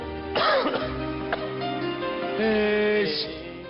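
A person coughs and clears their throat a few times, fairly faint, over a background of steady music in a comedy sketch.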